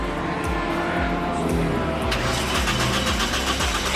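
An old ACR sports car engine runs loud and steady, rough low rumbling with rhythmic pulses, a throaty rev building partway through.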